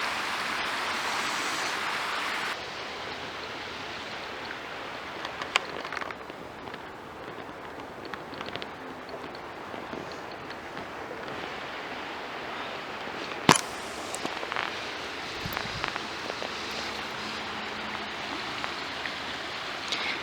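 Steady broadband rushing of creek water flows continuously, with a few faint clicks and taps over the wash.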